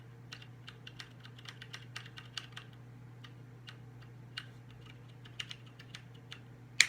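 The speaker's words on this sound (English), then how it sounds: "here's me pressing it in without bottoming it out" Brown-switch keys on a Magicforce 68 mechanical keyboard are pressed without bottoming out, giving soft, quick ticks in an irregular rhythm over a steady background hum, with one sharper tap at the end.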